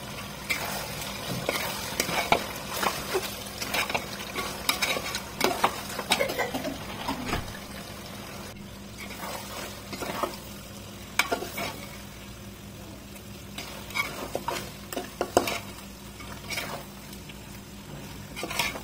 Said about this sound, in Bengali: এই যে মাংসটা আমি তেলের উপরে পুরোপুরি ভাজবো